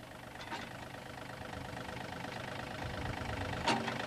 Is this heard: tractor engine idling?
yes